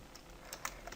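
Computer keyboard keys tapped in a short burst of a few light clicks while naming a preset in Sony Vegas editing software, close and fairly quiet, with no one talking.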